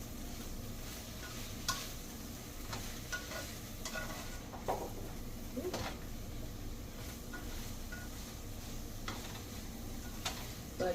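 Broccoli cooking in a pan over medium heat, with homegrown pink oyster mushrooms, giving a steady low sizzle and frying hiss broken by occasional stirring scrapes and clicks of a utensil against the pan, no talking.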